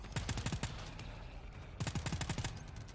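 Pistol gunfire in the video game GTFO, two quick bursts of rapid, punchy shots about a second apart, loud and close with a short pause between volleys.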